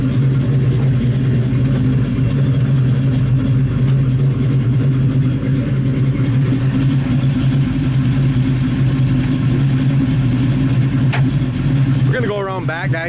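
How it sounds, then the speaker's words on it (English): Deep, steady burble of a 1973 Dodge Challenger V8 idling through its dual exhaust, close and loud, with a faint voice near the end. "So here's at an idle, and it's got that nice dual exhaust with the fork tip."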